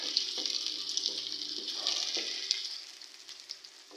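Steady close-up sizzling of onions frying in hot oil, a bright crackling hiss with small pops and a few light stirring clinks.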